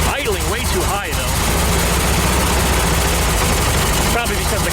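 An air-cooled VW Type 3 engine idles fast and loud, a dense steady roar that never settles, with a voice briefly heard over it.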